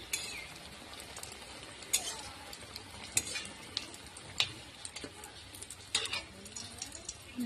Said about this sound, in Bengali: এই যে বেগুন ভাজাটা হচ্ছে